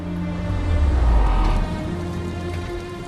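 Rain pours down in a film scene as a dense, steady patter, with a deep rumble swelling briefly in the middle before easing back to the constant downpour.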